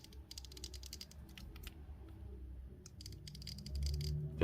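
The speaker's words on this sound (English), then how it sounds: "the middle parts are clicky" Mechanical three-level slider switch on a flashlight being clicked back and forth, giving faint, close, dry little clicks in uneven bursts over quiet handling noise.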